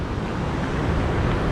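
Rough ocean waves surge against a rocky shore, a dense, loud wash of roaring surf and wind noise with no voices.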